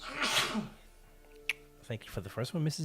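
A single sharp sneeze near the start, loud and breathy, followed by a quiet pause and then a person talking.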